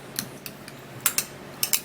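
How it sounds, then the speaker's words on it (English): A utensil stirring an avocado face mask mixture clicks against the bowl in a few light, irregular taps, quiet and close with no talk. "give it a nice stir. Stir it really well"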